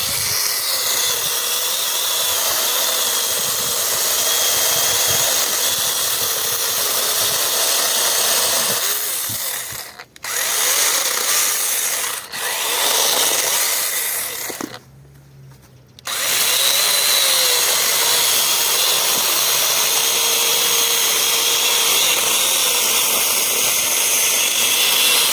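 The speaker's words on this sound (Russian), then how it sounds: "Пила сама вгрызается в древесину." A YUANSEN cordless chainsaw cuts through wood with a steady, loud, high-pitched whine. It dips briefly twice as the chain eases off mid-cut, then carries on continuously without any talking.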